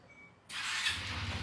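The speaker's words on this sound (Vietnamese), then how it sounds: "bóp thắng bóp thắng mới nổ máy được" A Honda SH 150i scooter engine catches abruptly after a quiet moment, settling into a close, steady idle with a low rumble and broad hiss.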